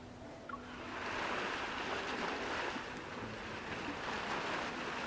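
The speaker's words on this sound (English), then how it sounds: "why do I hear waves on your end?" Ocean waves roll and wash continuously beside a phone caller in a story game, a broad hissing surf with some wind buffeting, steady and moderately loud, with no talking.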